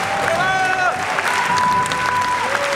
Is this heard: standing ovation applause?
yes